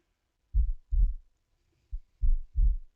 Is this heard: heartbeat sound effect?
yes